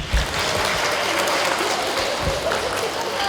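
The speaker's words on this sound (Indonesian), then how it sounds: "Mari kita beri tepuk tangan untuk Bulusi." Applause at a Year 6 primary school graduation ceremony in Indonesia, a continuous patter of many hands clapping from a seated crowd, with some low thumps and murmuring underneath.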